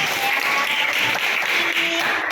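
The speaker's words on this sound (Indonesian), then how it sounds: "Ya, terus kalian tepuk tangan." Students in a classroom clap their hands together, a brief burst of loud, close, dense applause with a faint voice underneath.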